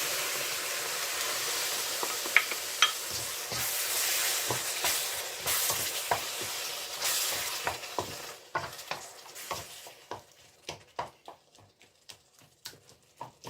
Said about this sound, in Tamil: இப்ப நான் எடுத்து வச்சிருக்கிற இந்த டொமேட்டோ அரைச்சு நான் எடுத்து வச்சிருக்கிறேன். இதை நான் இப்போ சேர்க்க போறேன்.